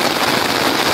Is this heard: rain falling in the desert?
yes